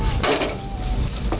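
Onions sautéing with turmeric in a pan for a coconut-milk fish curry, with a steady sizzle, brief stirring scrapes and a few light clinks, up close and without talk.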